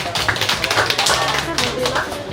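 Audience applause for a veterinarian at a cat lovers' fast-breaking gathering and talk show, a steady dense patter of clapping hands throughout with voices mixed in.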